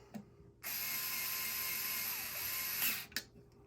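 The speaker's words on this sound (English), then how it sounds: "we're going to take the second screw and put it in the opposite corner" A power driver spins a screw into the corner of an arcade remote case, a steady high whirring buzz lasting a little over two seconds before stopping, followed by a faint click.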